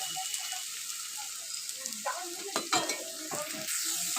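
Garlic and ginger paste hit browned onions in a hot pan, giving a soft steady sizzle broken by a few sharper scraping stirs of a spoon toward the end.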